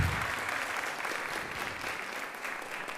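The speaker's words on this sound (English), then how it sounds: "Please give them a big round of applause." Steady, dense applause from a crowd at a middle school band concert, clapping continuously and evenly throughout without pauses.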